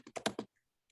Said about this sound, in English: So while Alvin is typing